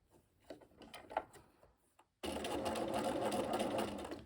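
A sewing machine stitching a seam: after a few soft handling knocks and a brief pause, it starts up close and runs as a loud, steady whirring rattle to the end.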